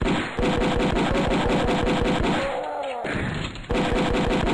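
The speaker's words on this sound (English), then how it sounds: "I think in this game we do get to shoot, or rather battle the cyber demon." Rapid, repeated gunfire from a Doom-style browser shooter, a steady automatic rattle of evenly spaced shots with a brief gap before the firing resumes, loud and close with no talking.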